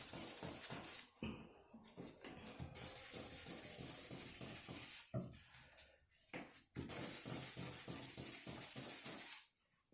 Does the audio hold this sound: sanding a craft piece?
yes